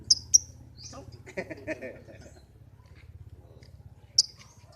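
A pastel green lovebird lets out a few sharp, high chirps, two quick ones, then another after a pause, with soft rustling and a low hum in between.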